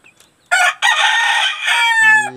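Chickens on a small farm, including a hen, give a few faint clucks before a rooster crows loud and close, a long drawn-out cock-a-doodle-doo ending in a lower tail note.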